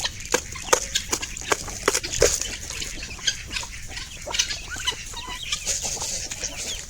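Kadaknath chickens cluck on a farm in short, scattered calls at close range over a busy background of farm noise.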